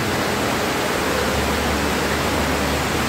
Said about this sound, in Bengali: নিচে আরেকটা ঝর্ণা